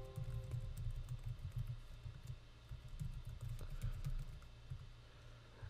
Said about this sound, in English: And we're going to type in our password.